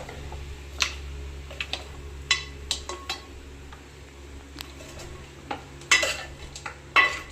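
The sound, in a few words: stirring masala powder into country chicken fry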